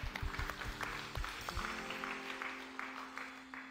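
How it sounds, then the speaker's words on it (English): A church congregation claps together in a clap offering, a fairly faint, dense spatter of hand claps that thins and fades away, heard at a distance in a hall with a low hum beneath. "Let's give the best clap offering to God."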